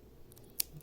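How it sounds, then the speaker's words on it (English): A single crisp scissors snip cuts the string on a JBL Everest 700 headphone ear pad, close and sharp, with faint faint handling around it. "Let me cut those string."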